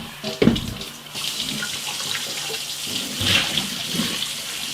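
Water running into a sink from a tap, rinsing away sanitizer after brewing equipment cleaning; a steady close splashing flow with a brief louder gush near the start, no talking.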